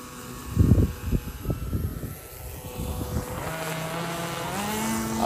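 A large RQ-7 Shadow model RC airplane with a wide wingspan and inverted V-tail flies and slows down for landing, its propeller engine whining and rising steadily, with a few close thumps early on.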